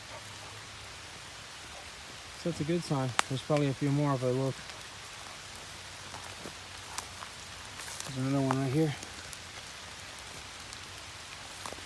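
Steady rain patters down through the woods as a soft, continuous hiss, while someone talks nearby in short bursts over it.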